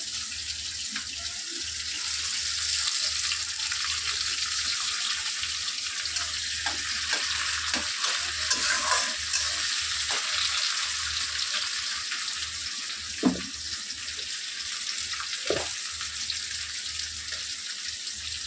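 Chopped tomato fries in a pan with a steady, bright sizzling hiss, broken now and then by soft clinks and scrapes of a utensil against the cookware.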